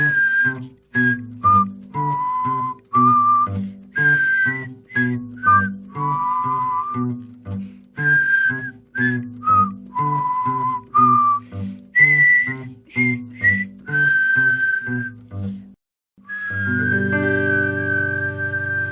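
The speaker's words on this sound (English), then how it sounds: "He whistled." A person whistles a lively tune in short, repeated phrases, close and clear, ending on a long held note.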